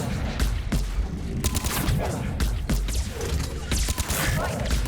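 Dense, sustained gunfire from Mass Effect 3 combat, rapid overlapping shots and thuds filling the whole stretch at close range with no clear pauses.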